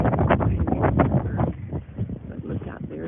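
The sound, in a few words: strong wind outdoors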